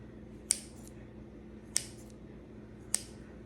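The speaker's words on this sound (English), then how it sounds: "I'm gonna use these scissors, and I'm just gonna do some cuts" Three crisp snips of kitchen scissors scoring sourdough bread dough, evenly spaced and close, each a short bright click over a quiet room hum.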